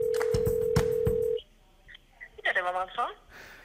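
A phone call begins with a steady dial tone and several keypad dialing beeps, then goes quiet before a voice answers on the line.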